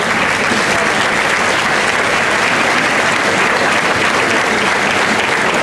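A crowd at a local festival, the Fête Promenade, applauds steadily and loudly throughout, a dense even wash of clapping with no break.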